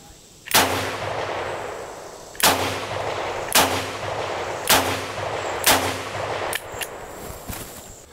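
A Charter Arms Off Duty .38 Special revolver with a 2-inch barrel, aluminum and stainless, fires five loud, sharp shots at an outdoor range, spaced roughly a second apart, each followed by a ringing tail, with a faint clink afterward.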